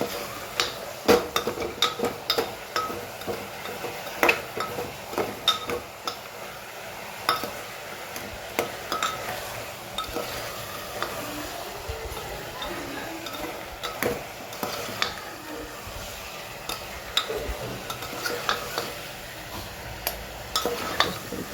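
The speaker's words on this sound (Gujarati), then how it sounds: "હળદર, મીઠું, ફરીથી સરસ મિક્સ કરી લેવું।" A spoon stirs turmeric, salt and red chilli into a cooking mixture in a pot, making close, irregular scrapes and light clinks against the metal throughout.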